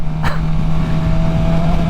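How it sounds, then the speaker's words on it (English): A super sport motorcycle's exhaust drones with a steady low engine hum and a faint tonal whine, loud and continuous at riding speed, with a brief burst of noise near the start. "I freaking love this exhaust note"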